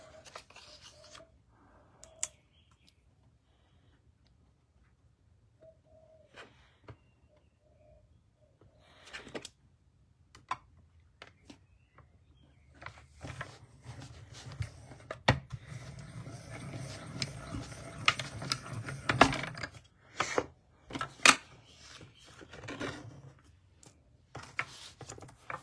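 Paper stems for a lavender card being cut out with scissors, a run of soft crisp snips and rustling paper building through the latter half, with small clicks and handling noises scattered before it and no talking.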